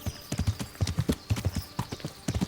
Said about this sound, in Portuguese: Agora pode correr, cavalo. Pode correr.